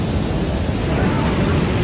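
Water spray from a waterfall, Rupse Jharna in Mustang, Nepal, hits close by as a dense, steady hiss of splashing and rushing water, loud and unbroken throughout.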